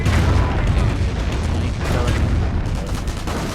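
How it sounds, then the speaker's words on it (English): Artillery barrage in a World War II strategy game pounds a Panzer IV tank, a dense rumbling roar of low booms and blasts filling the whole stretch, loud and continuous, with a voice talking over it. "He's actually going to barrage my Panzer IV"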